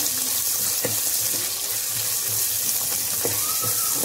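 Onions fry in a pan for a drumstick-leaf curry, a dense steady sizzle close by with a few light clicks of stirring, no voices.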